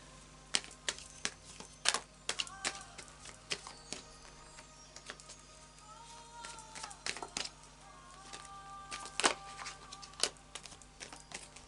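Tarot cards being shuffled in short, crisp bursts of flicking and riffling, close by, with soft taps and shuffles scattered throughout and no talking.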